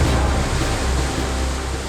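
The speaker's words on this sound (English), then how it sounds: "Water gushes through simulated blast holes at 2 cubic tons per minute." Seawater gushes through simulated blast holes at two cubic tons per minute in a Royal Navy damage-control training rig, a dense, steady roaring rush with no pause, loud and close.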